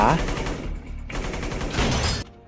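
Loud bursts of gunfire rattle in quick succession, a dense crackling exchange between hero and villain in a Michael Bay film shootout, mixed with dramatic film sound.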